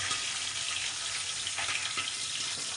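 Garlic and green chillies fry in oil with a dense, even, close-up sizzle and faint soft pops, no talking.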